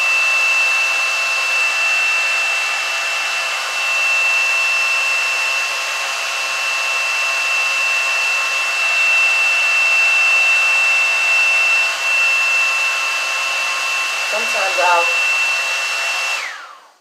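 A hair dryer on its low setting runs steadily and close by, a continuous whooshing hum with a thin whine, drying strip eyelash glue; a brief faint clatter comes near the end before it cuts off.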